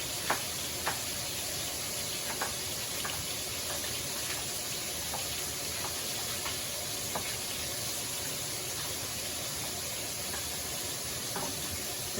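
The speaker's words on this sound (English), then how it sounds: "you just want to cook the peppers and the onions so they're nice and soft" Peppers and onions sizzle in a pan for shakshuka, a steady dense close-up hiss with scattered small pops and ticks running evenly throughout.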